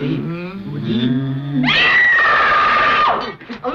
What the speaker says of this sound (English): Is that the loudest you can scream?